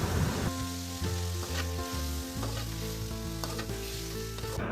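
Meat frying with garlic ginger paste, a dense close sizzle under a sustained hum, with stirring scrapes and knocks against the pan, no talking.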